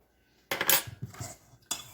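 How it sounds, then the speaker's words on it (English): Spoon scraping and clinking around a mixing bowl while stirring apple turnover filling, a few short close scrapes with a pause, then another scrape at the end. "Just kind of scrape the sides and make sure I've got all the ingredients mixed up together real good"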